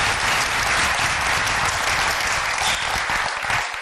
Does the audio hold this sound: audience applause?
yes